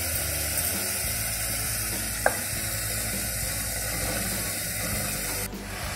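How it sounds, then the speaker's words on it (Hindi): Ridge gourd frying with spices in a pan for an Indian sabzi, a steady faint sizzle running throughout with one brief clink near the middle, no voices. "तोरई को मसाले के साथ में 1 मिनट तक भूनेंगे"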